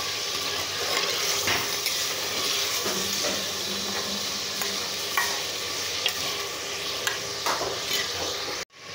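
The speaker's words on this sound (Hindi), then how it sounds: "अच्छी तरह भून लेंगे।" Chicken nihari frying in a pot while being stirred, a steady sizzle and hiss with scattered scraping clicks of the spoon throughout, close and moderate, ending abruptly.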